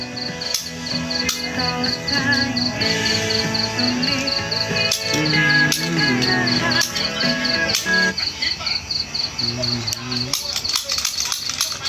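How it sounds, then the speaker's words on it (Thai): Crickets chirp in steady, rapid, evenly spaced pulses that run throughout, mixed with a busy tonal background and other sounds. "เก็บจิ้งหรีดนั้น ได้พี่มาเอาไปหมดเลยจิ้งหรีดอะ"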